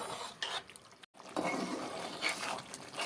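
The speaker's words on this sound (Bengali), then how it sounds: "এবার ঢাকা দিয়ে টকবক করে ফুটিয়ে নেব।" A covered pot of meat and green pea ghugni boils vigorously, with a soft, close bubbling and gurgling that breaks for a moment and then resumes steadily.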